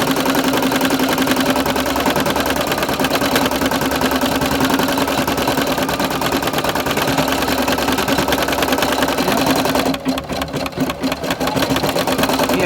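An embroidery machine stitches a design onto a shirt with a continuous loud, fast mechanical chatter and steady hum, close up, with a brief change in rhythm near the end.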